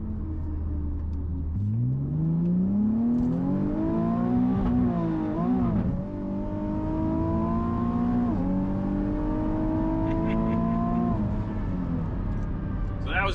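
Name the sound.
Nissan 370Z accelerating hard, traction control kicking in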